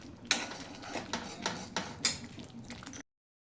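A spoon scrapes and clinks against a pan as coriander-cumin powder is stirred into a sev bhaji curry, several sharp metallic taps in an irregular rhythm over soft sizzling, close and fairly quiet.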